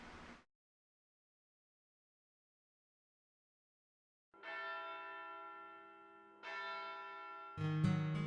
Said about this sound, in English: For 16 years, they've been waiting to hear the sound of the bells.